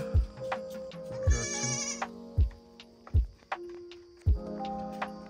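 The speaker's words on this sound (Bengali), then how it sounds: "ছাগলগুলো এখন রোদ্দুরে না যেয়ে ছায়াতে রেস্ট করছে" Goats on a farm in Jhargram, West Bengal, resting in the shade on a hot day, give several loud, wavering bleats at irregular intervals, with a low hum in the background.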